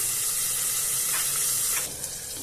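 Potatoes frying in a pan give a steady bright sizzle and hiss, briefly louder before easing off toward the end.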